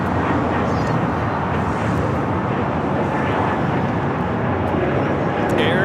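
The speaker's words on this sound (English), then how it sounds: "Air Canada, Airbus A220-300 taking off." An Air Canada Airbus A220-300 taking off at Los Angeles airport produces a loud, dense, continuous engine roar with buffeting wind-like rumble, steady for the whole stretch and heard alone.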